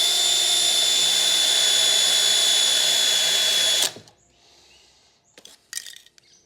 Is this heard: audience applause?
no